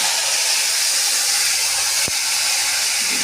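Drumstick flowers hit hot oil with black cumin, letting out a loud, steady, broad hiss of frying, broken once by a brief sharp click.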